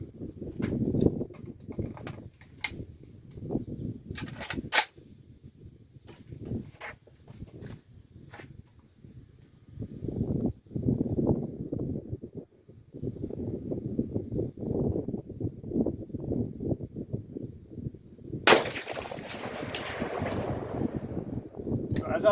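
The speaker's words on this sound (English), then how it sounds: "Fire one more round." AK-47 rifle fired at a 300-yard range, with about 20 mph wind: a few sharp, loud cracks spread across the stretch, between longer spans of rustling, wind-buffeted handling noise and low murmuring.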